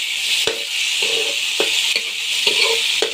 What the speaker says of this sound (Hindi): देख सकते हैं लहसुन ब्राउन हो गया।